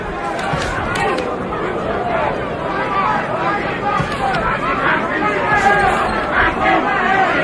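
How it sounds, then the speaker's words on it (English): A dense boxing arena crowd at a Mike Tyson vs Tony Tucker heavyweight fight, booing Tucker's tactics: steady, loud, far-off babble and jeering that fills the hall without letup. "Crowd booing the tactics of Tony Tucker"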